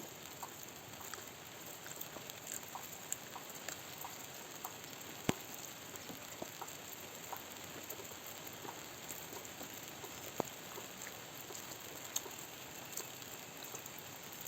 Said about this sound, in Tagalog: Ay, ulan na.